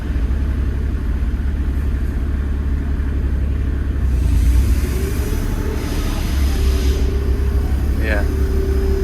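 A tractor-mounted flail mower spins up, giving a loud continuous rumbling drone that swells partway through as the rotor gathers speed, with a voice talking briefly over it.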